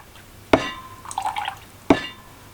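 Water drips and splashes against glassware being rinsed beside a whiskey distilling setup, two sharp close impacts with a brief trickle between them, in a quiet room.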